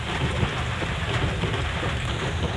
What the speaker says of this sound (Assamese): ইমান বৰষুণ মানে ক'ব নালাগে তো ধুমুহা বৰষুণ ধুমুহা বৰষুণ কেৱল ধুমুহা বৰষুণ